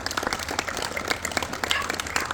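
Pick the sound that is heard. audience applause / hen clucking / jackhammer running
audience applause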